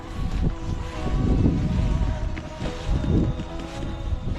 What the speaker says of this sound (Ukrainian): Правда, вітер мішає.